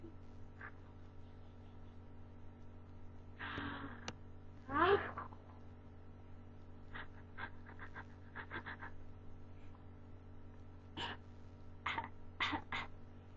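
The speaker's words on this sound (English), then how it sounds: "He does a fake cough" A seven-month-old baby makes a fake cough, with a few short throaty coughs and grunts separated by pauses, plus soft babbling noises, close by in a quiet room with a low hum underneath.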